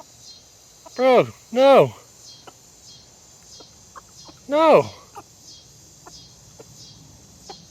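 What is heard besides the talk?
rooster clucking at cat food by the gate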